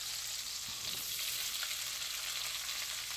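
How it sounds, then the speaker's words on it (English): Smoked turkey sausage sautéing in oil in a pan, a steady, even sizzle and hiss heard close and continuous with no pauses. "I'm just going to saute this for a few minutes before I add the onions"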